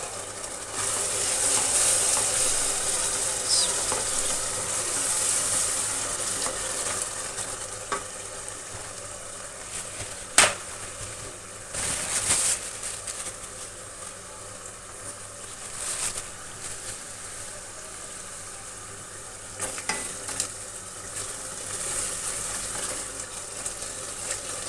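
Masala for Lahori-style murgh cholay frying in a pan, a continuous close sizzle with scraping stir strokes and occasional sharp clicks, no voices over it.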